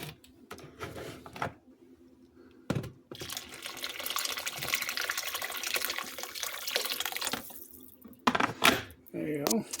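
Tap water gushes into a pot for chicken tortilla soup, a loud steady splashing rush lasting several seconds, with quieter kitchen sounds and speech before and after it.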